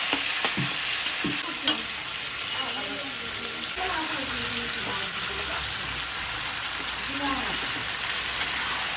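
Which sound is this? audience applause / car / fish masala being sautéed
fish masala being sautéed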